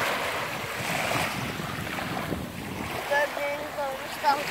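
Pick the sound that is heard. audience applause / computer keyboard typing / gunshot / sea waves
sea waves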